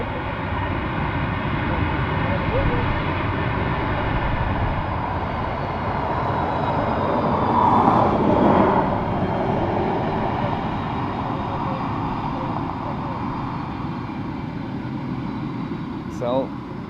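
An arriving aircraft approaches Dublin Airport from far off as a steady, broad engine roar that swells slightly midway, with murmured voices nearby.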